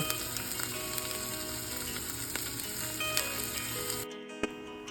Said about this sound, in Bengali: তারপরে একে একে করে সব সবজিগুলোকে হালকা করে একটু ভেজে নেব।